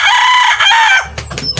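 A backyard-bred rooster, offspring of a Golden Boy sire and a gray hen, crows loudly and close in one full call, followed by a few short clucks.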